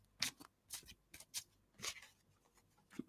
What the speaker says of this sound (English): just another little shuffle here